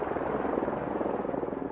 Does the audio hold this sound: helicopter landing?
yes